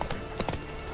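Roach the horse's hooves clip-clopping in The Witcher 3, a few quick, close, distinct hoof strikes in an irregular gait over about a second.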